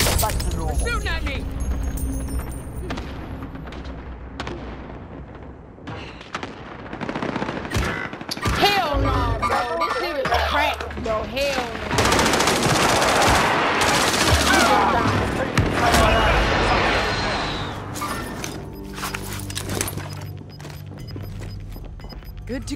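Rapid gunfire bursts and automatic fire from a Call of Duty: Modern Warfare match rattle loudly and almost continuously, mixed with booms, while players talk over the action.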